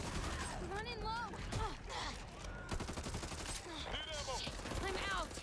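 Rapid Tech 9 submachine gun fire in the co-op zombie shooter Back 4 Blood, sustained bursts mixed with game effects while voices talk over it.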